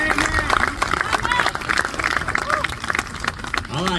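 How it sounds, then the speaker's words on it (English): Audience claps in a dense, lively burst under shouted voices and crowd noise, sustained throughout. "Y'all give them another hand clap."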